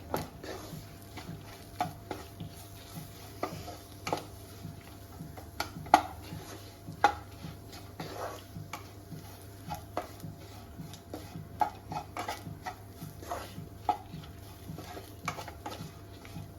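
A spoon scrapes and clinks steadily against a pan while shallot masala is stirred in oil, with regular sharp taps every second or so over a low, faint background sizzle; no one speaks.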